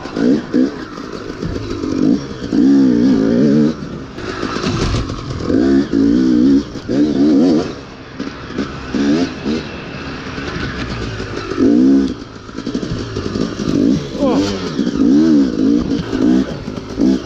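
A motorcycle lapping a track on its first ride in three months, in rain or fog: a close, steady engine note that repeatedly revs up and drops as it accelerates and shifts.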